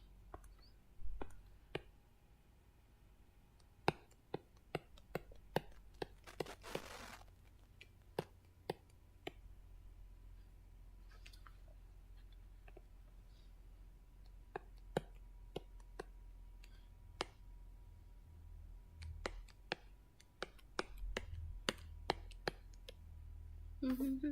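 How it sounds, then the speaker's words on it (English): Stylus pen tapping on a drawing tablet screen while digital shading is done, a long scatter of faint, sharp clicks at irregular intervals over quiet room tone. "If you hear like these clicky sounds, that's just my pen touching the screen."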